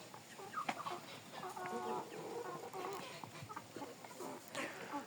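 A Jersey Giant rooster clucks in short, soft bursts, with a few sharper calls scattered through, fairly close and without any talking.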